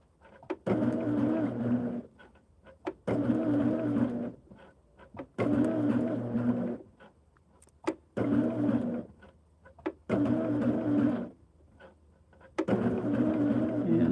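Sewing machine stitching a quilt foundation in bursts of running stitches, each lasting about two seconds with short pauses between, the motor's hum loud and close.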